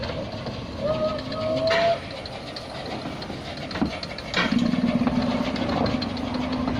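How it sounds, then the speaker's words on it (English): A 1920s narrow gauge railway locomotive idling and rumbling at a station, with a tonal whine and mechanical clanks, voices talking faintly over the engine. "The 1920s locomotive on this narrow gauge railway."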